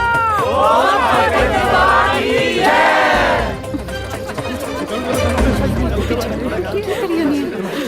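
A group of people shout a Punjabi jaikara cheer together, loud rising voices for a few seconds, then the shout gives way to noisy crowd chatter and movement.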